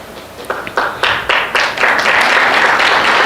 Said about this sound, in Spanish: Si ese aplauso es para el Señor, dele más fuerte